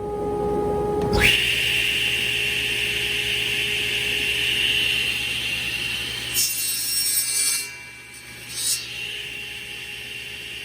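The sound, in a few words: saw blade cutting wood piece in half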